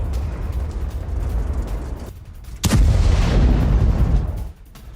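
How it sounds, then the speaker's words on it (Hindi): A Tomahawk missile launches from a warship with a sudden sharp blast, followed by a loud, sustained roaring rush that fades after a couple of seconds, standing alone without voices. "युद्धपोत से टॉमहॉक मिसाइल को फायर किया गया।"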